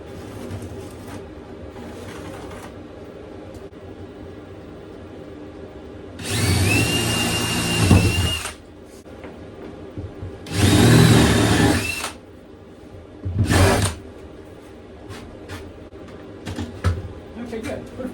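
A power tool saws through a pop-up camper's stove and sink cabinet panel in three loud bursts, two long and one short, with quieter workshop noise and faint talk between them.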